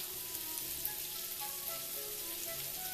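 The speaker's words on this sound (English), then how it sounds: "It's been sizzling away for almost 5 minutes now" Bacon-wrapped asparagus spears held with toothpicks sizzle in a hot pan, a bright, dense hiss scattered with fine rain-like pops, steady and close throughout.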